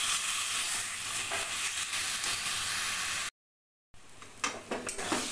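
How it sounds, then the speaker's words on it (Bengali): Chopped taro leaves stirred and frying in a pan, a broad steady sizzle with scraping stirs, close, cut by a brief silence before the sizzling resumes with louder clattering strokes. "মাঝে মাঝেই শাকটাকে নেড়ে চেড়ে দিতে হবে, তা নাহলে লেগে যাবে।"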